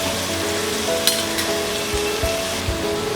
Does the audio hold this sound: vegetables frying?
yes